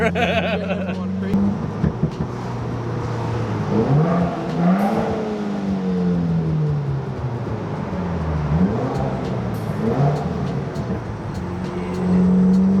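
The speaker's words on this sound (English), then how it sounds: "the pops are all stock, no tune, no nothing, and it pops like this already" A Subaru WRX on a stock tune with a Remark 4-inch double-wall axleback exhaust, heard from inside the car while driving. The engine drones and whirs as revs rise and fall, with some popping mixed in, and a voice talks over it.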